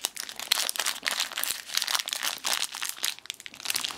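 Plastic packaging crinkles and crackles up close as someone struggles to open a boxed Incredibles 2 3D puzzle, a continuous busy rustle with no talk.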